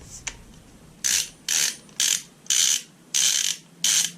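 An impact wrench drives a custom welded chrome vanadium long-reach 21mm by 100mm, 1/2-inch drive socket meant for diesel injectors, giving six loud, evenly spaced rattling bursts with short pauses between.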